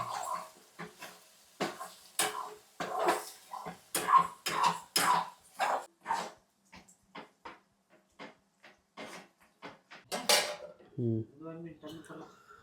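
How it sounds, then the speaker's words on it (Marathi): Rakti is stirred into fried onions in a pot, with a series of close metallic scrapes and clanks of a spoon against cookware in irregular bursts, a brief pause, and a cough near the end. "कांदा परतून झाला की डायरेक्ट त्यात रक्ती टाकायची आणि जर आता प्रॉपर मिक्स करून घ्यायचे"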